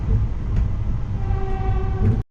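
A passenger train heading to downtown Fort Worth, Texas, rumbles steadily along the rails, a heavy low drone with faint tonal whine, close and continuous before cutting off abruptly.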